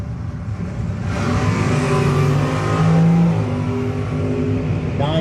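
A second-gen Camaro and a Dodge Dart accelerate hard down a drag strip in a no-box 660 race. The loud engines roar with a rising pitch, then sweep past and fade away.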